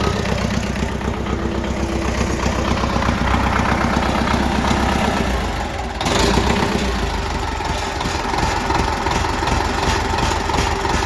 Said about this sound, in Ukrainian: дивимося перший пуск ви почули, взагалі по красоті завівся